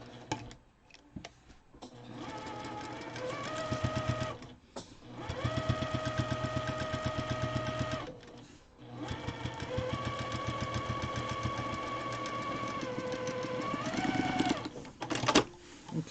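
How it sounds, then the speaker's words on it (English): A sewing machine runs long steady stretches, stitching a quarter-inch seam on a quilt-as-you-go block, with a fast even mechanical whir and brief pauses between runs, close and loud. "I am sewing a 1/4 inch on both sides of the line and your seam that you used."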